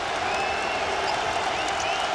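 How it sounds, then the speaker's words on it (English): A packed basketball arena crowd at the Hartford Civic Center roars and cheers during a UConn men's game against Indiana, a steady, dense wash of applause and voices that holds at full volume throughout. "he has electrified this crowd here at the Hartford Civic Center"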